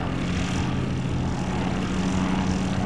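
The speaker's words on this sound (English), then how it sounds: "watch the plane fly." A Kestrel Hawk ultralight aircraft drones steadily overhead, its propeller engine giving a continuous buzzing hum at moderate distance, with no talking.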